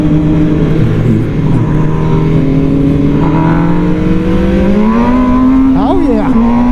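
MV Agusta Brutale 1000 motorcycle accelerating hard on the road, a loud continuous engine roar rising steadily in pitch with a quick upshift near the end, heavy wind noise throughout.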